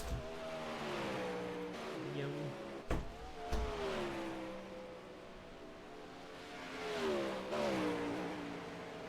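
Race car engines in a racing video game during an esports single-car qualifying session, a steady droning engine tone that rises and falls in pitch as the car accelerates, with a few brief sharp knocks, continuous throughout.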